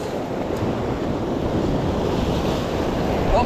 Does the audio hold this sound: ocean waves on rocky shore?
yes